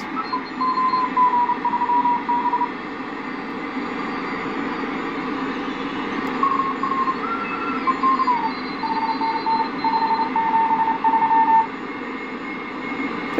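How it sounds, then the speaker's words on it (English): Morse code CW signal received on a WWII-era BC-348 radio, faint keyed tones pulsing in irregular dot-dash bursts over a steady hiss of band noise, no talk. "That's some nice CW."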